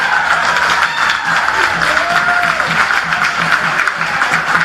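Home crowd at a Blacktown City FC versus Sutherland Sharks FC NPL NSW football match roars after a goal, loud and sustained, a dense wash of cheering and noise filling the ground.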